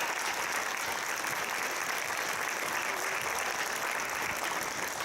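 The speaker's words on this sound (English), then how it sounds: "Give them one round of applause." A school promenade audience gives a steady round of applause, a dense, even wash of many hands clapping at constant loudness for several seconds with no voices on top.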